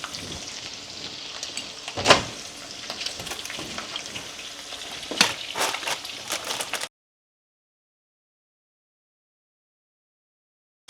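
Salmon fillets fry in a pan with a steady soft sizzle and crackle, broken by a couple of sharper pops before the sound cuts off abruptly.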